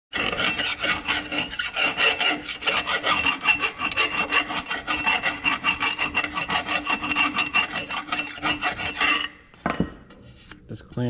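A hand file rasps rapidly and rhythmically against a burr on a worn hydraulic cylinder detent part from an Oliver 66 Diesel tractor, close and loud, then the strokes stop and a few clinks and handling sounds follow.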